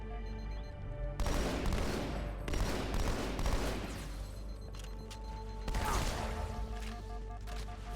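Halo 2 SMG fire comes in loud, sustained automatic bursts, roughly three long rattling volleys separated by brief lulls, with mechanical clatter between them.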